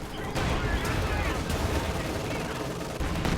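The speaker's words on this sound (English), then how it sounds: "Stug will start shooting at the shock troops at point blank range." In a World War II strategy video game, a StuG assault gun fires at shock troops at point-blank range, with repeated gunfire bursts and booms over a dense battle din while a commentator talks throughout.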